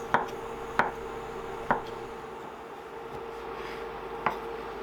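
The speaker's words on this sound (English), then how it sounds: "I always chop those stalks away on the shiitake because they get a bit tough sometimes" A knife chops through tough shiitake mushroom stalks on a cutting board, four crisp, close strikes spaced unevenly with a longer pause before the last, against a quiet background.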